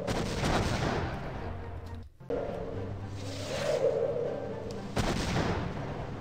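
Gunfire in the Nintendo 64 game Superman 64, a dense run of shots and blasts that fills most of the stretch, cut by a brief gap and then renewed at full strength.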